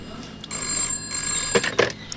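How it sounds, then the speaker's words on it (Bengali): A telephone on a table rings in two electronic bursts, close and clear, followed by a couple of brief knocks or handling sounds. "বিবস্বান উত্তর দেবার আগেই তার টেবিলে রাখা ফোনটা বেজে উঠল।"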